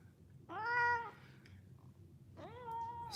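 Domestic cat meowing twice, a clear tonal meow near the start and a second drawn-out meow toward the end, close and moderately loud over quiet room noise.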